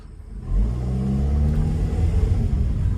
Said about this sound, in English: speed up to 20 and do a sudden stop